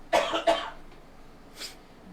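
Two sharp coughs close together to clear a tickle in the throat, then a softer third cough a moment later, near and fairly loud in a quiet room.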